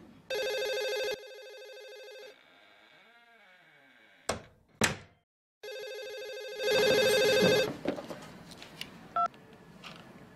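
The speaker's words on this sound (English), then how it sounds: "I'll take this call privately, Stacy." A desk telephone in an office rings and trills in several bursts with electronic tones, separated by short pauses, a couple of thumps and a brief silence, loud and close with no talk.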